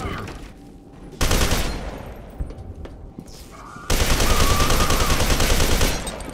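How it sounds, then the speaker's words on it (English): A grenade explodes in the game FEAR 2 amid ongoing gunfire. Loud bursts of combat noise sit close and dense, with a sharp blast onset partway through and sustained heavy rumble afterward, and no talk. "That was a grenade."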